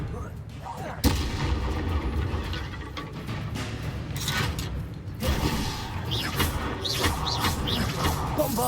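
Bombarda explosion spells in Hogwarts Legacy gameplay, repeated heavy blasts and booming impacts amid continuous combat noise and shouted voices, with one sharp loud burst early on.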